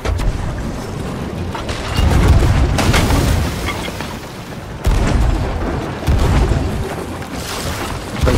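Ship cannons boom in the video game Sea of Thieves, several loud, close blasts spaced a second or two apart, each with a rumbling tail over a background of sea and ship noise.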